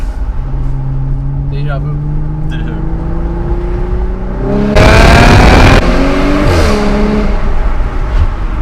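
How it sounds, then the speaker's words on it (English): A supercharged APR Stage 2 Audi S5 with a dual-clutch gearbox accelerates through the gears, its engine note rising in pitch with each gear before a burst of loud exhaust roar. It is heard from inside the car, with brief talk over it. "So now we're gonna try it with the windows down to get an exhaust clip"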